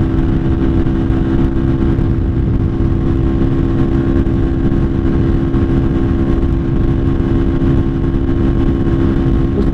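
Lifan KPR 200 motorcycle cruising at speed on an interstate, a loud, steady engine drone with constant wind rush and no change in pitch throughout.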